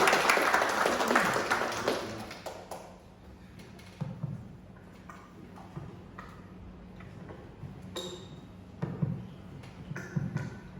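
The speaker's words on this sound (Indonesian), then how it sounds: "Berikan tepuk tangannya untuk Pak Budi" Audience applause for a presenter at a company gathering, a burst of clapping at the start that fades within a couple of seconds into sparse scattered taps and small room noises.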